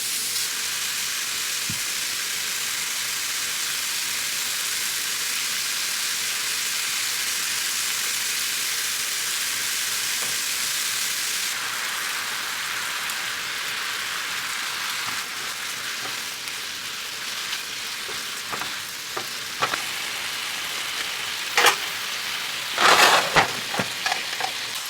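Steak pieces fry in a pan with a constant loud sizzle. Later, spatula scrapes and sharp clinks break up the pieces as the hiss thins slightly. No one speaks.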